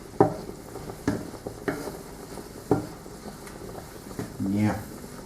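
Onions fry in a pan as a spoon stirs them, giving soft sizzling under several sharp scrapes and clacks against the pan, with a voice talking faintly at times.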